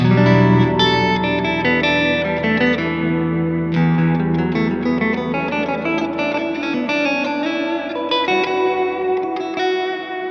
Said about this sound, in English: I'm gonna try to back off on the pre-delay so we can hear the difference